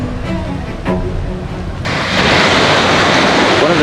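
Ocean waves on the beach at Playa del Carmen, Mexico: a soft background wash swells into a loud, close rush of surf about halfway through and keeps roaring.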